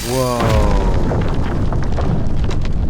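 A tree explodes in the video game Runo with a loud, booming blast. A rising musical tone precedes it, then a sustained rumbling roar of debris follows for several seconds.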